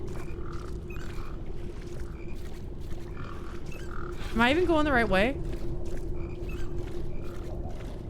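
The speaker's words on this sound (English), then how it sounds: "I hear that damn frog." A frog croaks in the video game Peak with a short burst of rising, warbling calls midway through, heard over a steady low drone while a person talks.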